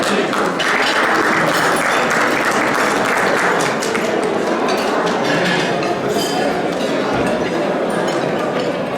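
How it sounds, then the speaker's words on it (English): Loud, sustained applause fills the room as a judge comes to the podium at a Ramadan dinner of a physicians' society, a dense steady wash of clapping with faint voices and clinks mixed in. "I'm getting applause already"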